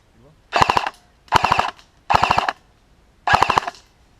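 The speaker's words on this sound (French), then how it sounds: "Il y en a un qui colle une rafale pour voir si ça bouge." Airsoft guns fire four rapid bursts, each a tight rattle of several snapping shots, separated by short pauses, loud and close during an outdoor skirmish game.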